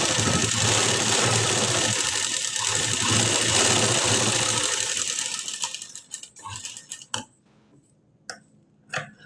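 A sewing machine stitches a blouse collar, running steadily and loud for about five seconds before stopping, followed by a few sharp, brief clicks and taps of the mechanism in near silence.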